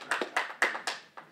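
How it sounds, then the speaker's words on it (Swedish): Scattered audience applause at an open house in Umeå, with five or six distinct hand claps in quick succession, moderately loud and close, with no clear booing voices audible. "Ja, det blev applåder, men några dämpade burop också."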